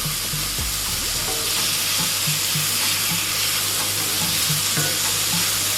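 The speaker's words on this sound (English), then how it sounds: "you want to keep stirring because you don't want your garlic to burn" Garlic sizzles hard in a hot pan for chicken chop suey, with a utensil stirring it and scraping in a regular rhythm under a dense, continuous frying hiss.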